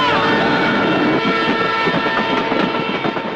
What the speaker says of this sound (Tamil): Train pass ஆயிருக்கலாம்.